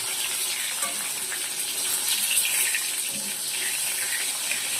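Small lote fish frying in hot oil in a kitchen, a dense, steady spattering hiss of water-laden fish popping in the pan, continuous and fairly loud throughout with faint background voices.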